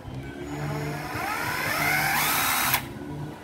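Japanese cordless drill from the LH line, run on a 12 V battery, whirs steadily at close range and climbs in pitch as its speed control is varied, ending in a brief click.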